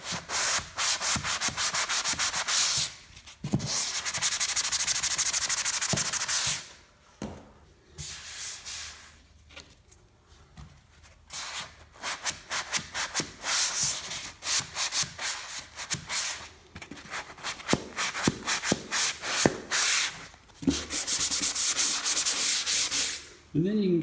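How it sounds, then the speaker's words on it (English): Sanding block scraping back and forth against drywall in long rasping bursts, close and loud, with short pauses between strokes and no talking. "you take that sanding block, and you go right in the angle, nice and square."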